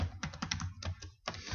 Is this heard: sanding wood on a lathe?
no